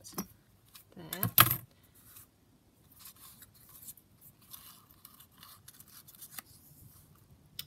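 Scissors snip through paper for a handmade junk journal, a short cluster of crisp cuts followed by quieter rustling and handling sounds, with someone speaking softly.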